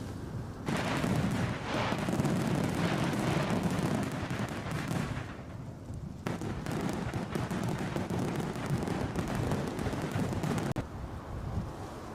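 Fireworks boom and crackle in a dense, continuous barrage outdoors near London Heathrow, loud and sustained with brief lulls, wind buffeting the microphone throughout.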